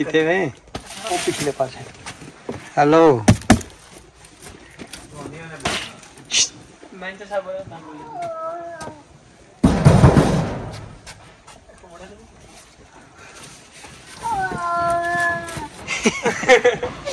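A cat meows several times, wavering and drawn out, near the listener, with a person speaking intermittently between the cries and a clattering noise midway.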